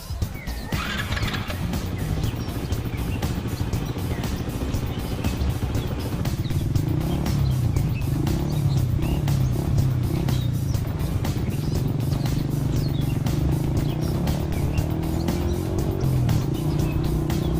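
A car engine hums and idles in a Hindi film scene, then settles into a steady low drone as it pulls away and keeps running, moderately loud with no voices.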